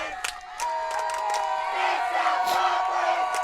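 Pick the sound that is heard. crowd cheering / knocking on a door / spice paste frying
crowd cheering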